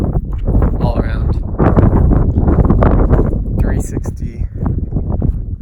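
Strong wind buffets the microphone in the high mountains of Kyrgyzstan, a loud continuous roar with gusts throughout and a person talking over it.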